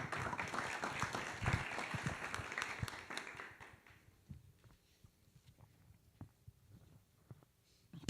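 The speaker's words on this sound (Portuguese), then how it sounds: "Pode aplaudir essa palavra de Deus." Church congregation applauding at a Catholic youth retreat, a dense burst of clapping for about three and a half seconds that stops abruptly, followed by near silence with a few faint scattered knocks.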